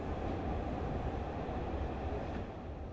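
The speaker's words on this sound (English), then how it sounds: "The lights flicker and the train comes to a stop." A train rolls into a station and comes to a stop in the video game Platform 8, a loud continuous rumbling roar that stays steady and easing only slightly toward the end.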